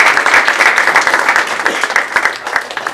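Loud, dense applause from a large audience at a campus talk fills the whole stretch, steady clapping with no pause, a crowd thanking the speaker.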